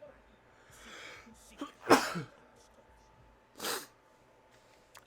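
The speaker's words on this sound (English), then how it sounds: "I would really like to stop sneezing." One sharp, loud sneeze bursts out, followed by a sniff and a smaller snort-like exhale, with quiet breathing around it.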